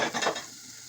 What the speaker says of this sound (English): fry the onion for 2 minutes. We're gonna add the garlic